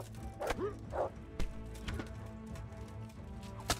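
A dog barks in the medieval RPG Kingdom Come: Deliverance, giving a few short yips and barks over clopping hooves and a low game ambience.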